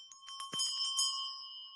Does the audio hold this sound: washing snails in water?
no